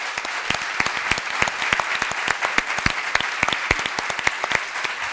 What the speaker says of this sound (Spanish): Jaime Garzón, para quien pido un fuerte aplauso